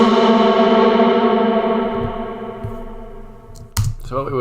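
A reversed reverb tail on a vocal in Ableton, a sustained tonal wash that holds steady and slowly thins before a few sharp clicks near the end.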